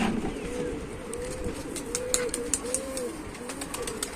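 Pigeons coo softly and repeatedly inside a pigeon loft kept for flying, with low rolling calls spread through the clip over faint background noise and a few light clicks.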